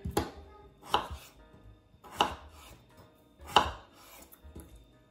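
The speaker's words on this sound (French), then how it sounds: "Et voilà, j'ai coupé les pommes de terre." A knife chops potatoes into thick slices on a cutting board in a home kitchen: four crisp, well-spaced cuts land about a second apart, close and clear, with no talking.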